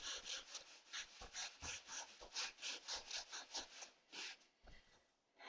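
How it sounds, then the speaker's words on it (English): Bare or socked feet rub back and forth on the floor during a gentle seated chair yoga session, a soft rhythmic scraping repeated about a dozen times in quick even strokes, close and quiet. "rub your feet on the floor"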